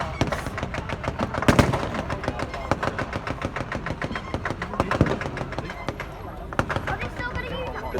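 Machine gun mounted on a motorbike fires during a 1940s WWII battle reenactment at Lytham, rapid rattling bursts with a few louder cracks standing out over an engine rumble and crowd noise.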